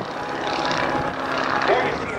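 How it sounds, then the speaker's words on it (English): An aerobatic propeller airplane at a 2008 naval air station airshow drones through a stall in a falling leaf manoeuvre, its engine a steady distant roar with a slight rising whine, under an announcer's commentary. "He slows the airplane, pulls the nose up higher and higher, backs the throttle up a little bit, watch the airplane stall."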